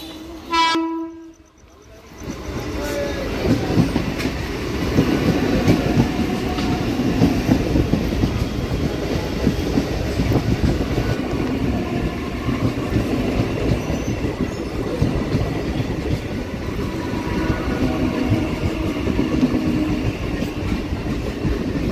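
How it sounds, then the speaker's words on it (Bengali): A train pulls into Bogura station on the down line, a loud steady rumble of wheels and cars rolling close by for most of the stretch, with a short horn-like tone at the very start. "এখন বাজে 7:40 বগুড়াতে নামলাম ডাউনে একটা ট্রেন ঢুকছে"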